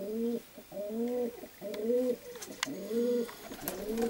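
Nikolaev breed pigeons coo repeatedly in a steady rhythm of low, rolling calls, close by, with faint clicks and rustles in between.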